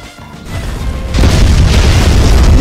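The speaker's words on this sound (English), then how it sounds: "let's see if the flame wave cannon will go through the wall" Flame Wave Cannon blast from Genos striking a wall in The Strongest Battlegrounds, a deep booming roar that swells after a brief lead-in and then holds loud and sustained to the end.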